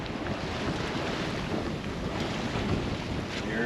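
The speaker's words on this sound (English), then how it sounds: "Here comes a good gust." Strong wind roars and buffets the microphone in a sustained gust aboard a Morgan 382 sailboat, with water rushing and sloshing underneath; no voices are heard.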